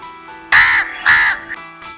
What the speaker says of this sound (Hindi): कितनी बार बताया कि वो पक्षी कौवा है?